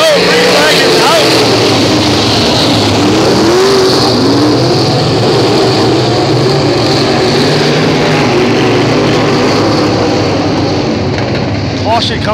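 UMP dirt track race cars roar off the start at Baton Rouge Raceway, a loud, dense engine drone with rising and falling revs as the field passes, under an announcer's voice.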